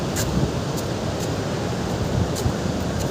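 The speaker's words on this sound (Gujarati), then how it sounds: "પવન જોરદાર છે" Strong wind roars steadily near the shore, blending with a broad wash of surf, with occasional gusty buffets against the microphone.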